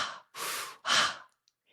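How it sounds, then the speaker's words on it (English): Rapid breathing in and out through the mouth, a mild hyperventilation exercise: three loud, close, breathy exhalation-like bursts in quick succession, then quiet. "30 fast breaths in and out through the mouth, simulating like mild hyperventilation, sort of like this"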